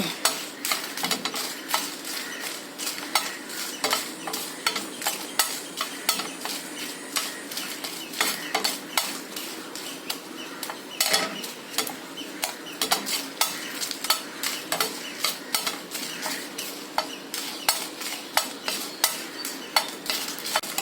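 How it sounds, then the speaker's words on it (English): Desiccated coconut being dry-roasted and stirred in a pan until brown makes a continuous scraping and rustling, with rapid, repeated spatula strokes against the metal, close and fairly loud, with no talk. "I am roasting desiccated coconut. Roast the same till the color changes into a brown color."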